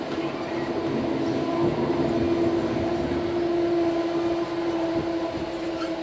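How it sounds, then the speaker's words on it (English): Amtrak train moving fast, a steady rumbling roar of rail travel heard from inside with a sustained droning tone and faint rhythmic clatter throughout, no talking. "The train is moving hard and fast."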